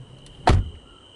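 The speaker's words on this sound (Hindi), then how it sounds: "अर्जुन ने कार से बाहर कदम रखा।" A car door sounds once as someone steps out of a stalled car, a single sharp thud-like clunk close by, standing out against a quiet background.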